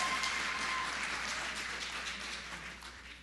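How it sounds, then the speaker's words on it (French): A church congregation claps for the mothers during a Sunday service in late December, a steady wash of applause that fills the room evenly, then tapers off slightly toward the end. "Acclamez les mamans."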